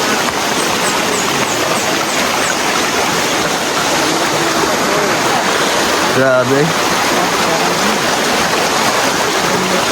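River water flows in a loud, constant rush along a rough forest route, mixed with engine noise from travel. A brief voice calls out partway through.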